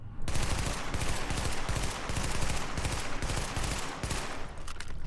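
An SMG firing in short rapid bursts in The Division, loud close clusters of shots separated by brief gaps and repeating steadily throughout.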